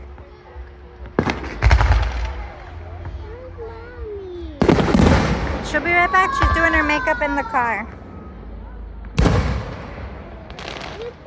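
Town fireworks show heard from a blanket among spectators, with several sharp booming bursts spaced apart, some followed by crackling, while someone talks nearby and a child vocalizes.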